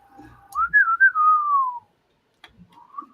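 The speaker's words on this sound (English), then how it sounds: "I heard somebody whistle." A person whistles a single gliding, wavering note for just over a second, close and clear, followed by a short softer whistled phrase after a brief pause.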